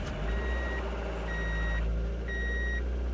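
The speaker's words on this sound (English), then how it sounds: "All right, we are ready to turn the key. We're getting a beeping." Steady electronic warning beeps from a high-mileage sports car at a Copart auction yard after the key is turned, three evenly spaced high tones, each about half a second long, sounding over a constant loud low rumble in the background.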